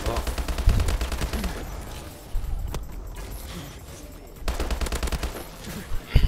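Gunfire from a new weapon in a video game, rapid automatic bursts of rattling shots that start, pause, then resume, loud and close with a few single heavier reports among them and no voices.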